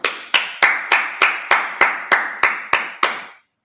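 A congregation at a Sabbath service claps in unison, about ten crisp, evenly spaced beats in a steady rhythm, loud and close with brief ringing decay between claps.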